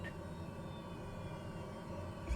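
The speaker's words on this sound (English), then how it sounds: "Go ahead and shut down the engine." An aircraft engine drones steadily in a flight simulator game as it is being shut down, a constant mid-level hum with no other sounds on top.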